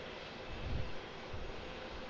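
An airplane descends straight down the runway at Auckland Airport, its engine a steady distant roar that swells slightly and stays continuous, with no voices.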